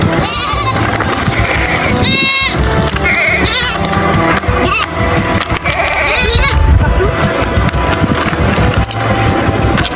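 Goats bleat repeatedly and close by along a quiet dead-end street near Playa Las Teresitas in Tenerife, over continuous rustling noise and people talking.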